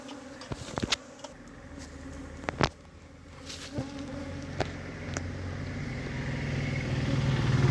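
Honeybees buzzing while being transferred from soil into a hive box, a dense insect drone that grows louder and closer over time, broken by several sharp knocks and handling clicks.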